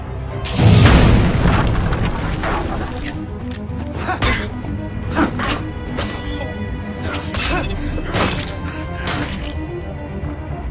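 Cannon fire in the video game Assassin's Creed Unity: a heavy, close boom opens the scene, followed by further deep thuds and crashing impacts over rumbling battle noise.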